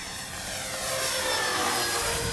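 A Dynam P-61 Black Widow twin-engine model airplane flies aerobatic maneuvers, its propeller engines droning loudly and steadily, swelling slightly as it passes near.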